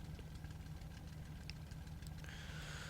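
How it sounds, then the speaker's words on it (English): The Bf109E's engine in IL-2 Cliffs of Dover runs steadily after start with a low, throbbing rumble and a faint, continuous mechanical drone, even and unbroken throughout. "there we go, the engine's running"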